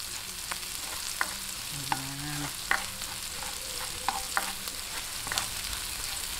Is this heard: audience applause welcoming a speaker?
no